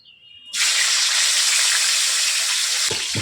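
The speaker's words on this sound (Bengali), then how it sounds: "কড়াতে দিচ্ছি তেল প্রথমে করলাগুলো ভেজে নেব" Bitter gourd pieces hit hot oil in a wok, setting off a loud, steady hiss and crackle that holds to the end, with a couple of low knocks near the close.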